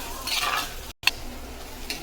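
Onions sizzle and hiss in hot oil, with a quick stir and a light clink of a utensil against the pan.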